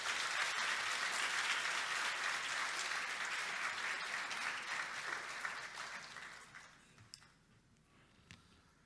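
A church congregation applauds to welcome a visiting pastor to a seminar, full sustained clapping that gradually thins out and fades to a few scattered claps near the end.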